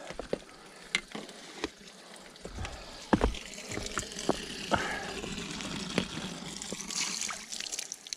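A cycling water bottle is refilled from a tap outdoors during a training ride, a soft, faint trickle of running water broken by scattered clicks and knocks of handling the bottle.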